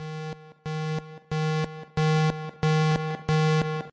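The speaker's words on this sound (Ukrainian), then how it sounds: "Сигнал хімічної небезпеки." Ukrainian chemical danger warning signal: a loud electronic tone with a steady buzzing harmonic pitch, sounded in six separate bursts of roughly half a second each, evenly spaced and with no voices.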